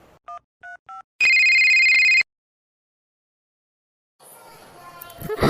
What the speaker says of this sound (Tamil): சரி மதுக்கு கால் பண்ணி கேட்கலாம்